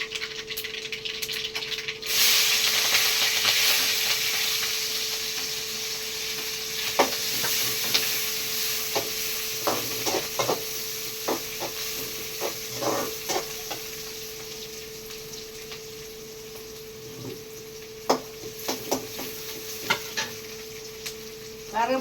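Mustard seeds, onion and green chilli frying in oil in a pan, a steady sizzle with scattered crackles and clinks of stirring, loudest at first and easing slightly over time.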